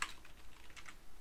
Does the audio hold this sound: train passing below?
no